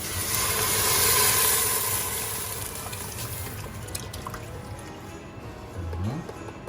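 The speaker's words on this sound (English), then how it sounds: "We're going to add a half a liter of milk." Whole milk pours into a pot of Dutch pumpkin soup with onions already in it, a continuous close liquid gush that swells at first then settles into a steady splashing stream, with faint background noise and no talking.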